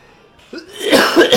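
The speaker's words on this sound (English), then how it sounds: "I feel like I'm about to go into a coughing fit." A person gives a short, close cough, a sharp burst that rises out of near silence and breaks into a couple of rough pulses at the end.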